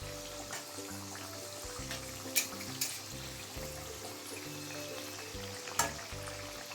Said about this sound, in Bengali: ভালো করে ভাজবো দেখো বন্ধুরা খুব সুন্দরভাবে ভাজা হয়ে গেছে